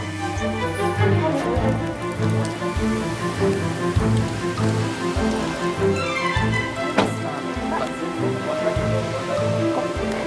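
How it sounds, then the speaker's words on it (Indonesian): Steady rain falls as a dense, continuous hiss and patter, broken by a few scattered knocks and clatters, with no clear voices over it. "Hujan loh."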